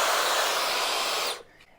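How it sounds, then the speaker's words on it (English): A Dyson hair dryer with a diffuser attached blows a steady, loud rushing stream of air that cuts off abruptly near the end, leaving near silence. "whatever dryer you've got, you always need to use a diffuser"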